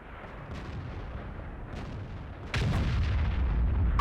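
A World of Tanks artillery shot: dense low rumble of battle ambience, then a sudden heavy boom that lifts the level and holds it for the rest, with a few sharper crack-like bursts scattered throughout.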